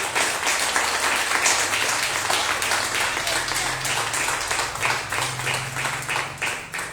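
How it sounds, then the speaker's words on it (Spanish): A church congregation applauds during a Sunday service, giving sustained clapping with a rhythmic pulse over a low sustained tone, moderately loud and steady throughout. "un aplauso fuerte al Dios de Israel"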